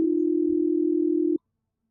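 A mobile phone call tone: one steady electronic hum held for about a second and a half, then cut off abruptly, leaving silence.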